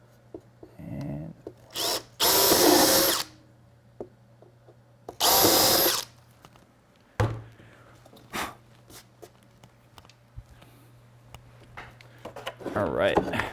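A power drill whirs in two loud bursts of about a second each, boring into wood, with clicks and knocks of handling between and after.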